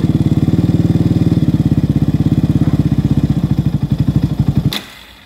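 A Kawasaki Avenger 220 motorcycle engine runs on choke with a loud, close, rapid thumping idle that stays steady, then cuts out abruptly near the end.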